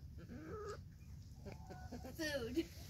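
Backyard chickens cluck and chatter close by while pecking at a Thanksgiving buffet of salmon, cottage cheese and spaghetti, with several overlapping bird calls against a steady low background hum.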